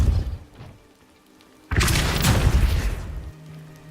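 A Depulso spell is cast in the Hogwarts Legacy video game: after a quiet stretch, a sudden loud whooshing blast bursts out and rumbles for over a second before fading under a low hum.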